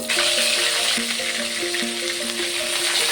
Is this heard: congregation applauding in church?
no